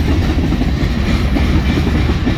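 A BNSF freight train with hopper cars rolls past close by, a loud continuous rumble and roar with rattling wheels and no clear individual clicks.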